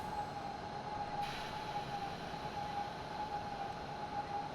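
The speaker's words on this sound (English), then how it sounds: "We're going to bring the train to a stop now." An RE30 regional train on the Pegnitztalbahn in a train simulator game rolls toward a stop with a steady rumbling drone and a thin sustained tonal whine, no voices, even in loudness throughout.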